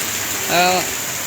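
Heavy rain pours over a market area in Sylhet during a thunderstorm, a steady broadband hiss running through the whole moment, with a brief voice rising in the middle.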